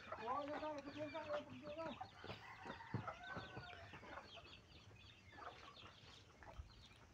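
A flock of farm chickens on a countryside farm clucks and calls over each other in busy, overlapping bursts, loudest early and thinning toward the end, with a faint crow mixed in.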